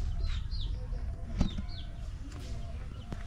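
Rooster and hens clucking close by in a backyard flock, short overlapping calls with a wing flap, over a busy rustling background.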